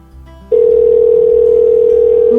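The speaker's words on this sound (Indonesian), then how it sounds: "Kok nggak diangkat ya sama Kometio?" Telephone ringback tone on an unanswered call, a steady loud tone that starts abruptly after a brief quiet lead-in and holds unbroken to the end, with no voices over it.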